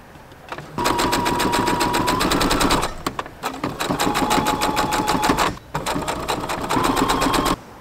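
A sewing machine stitches a piece of fabric onto a t-shirt being made into a crop top, running in three fast, loud bursts of rattling stitches separated by brief stops, close up and without talk.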